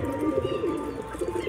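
Pigeons coo softly and continuously at close range, a low rolling murmur from a pair of domestic birds kept at home, with no talking over it.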